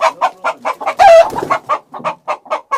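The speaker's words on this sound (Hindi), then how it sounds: "एंड यहाँ पे कुछ मुर्गे हैं और ये अंदर ही बैठे हुए हैं।" Chickens sitting indoors in a village house cluck in a quick, loud series of short notes, with one longer squawk partway through, close by and with no talk over them.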